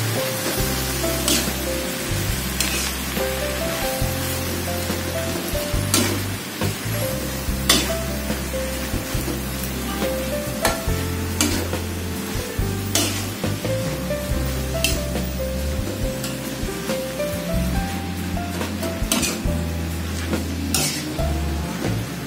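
Water spinach sizzling and being tossed in a wok with seafood, with scraping and clinking of a metal utensil over a steady frying hiss.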